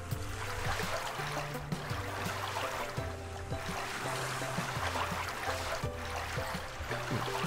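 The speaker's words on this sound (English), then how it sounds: "my first instinct is the water sound probably needs to be replaced" Steady rushing and trickling water from the Treasure Adventure World video game plays as a dense continuous wash, with a low looping game melody pulsing underneath and no voices.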